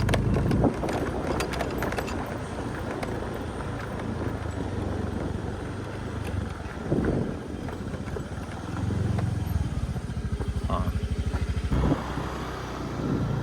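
Steady engine drone of a motorcycle on the move, with wind buffeting the microphone and the motor rising and falling throughout.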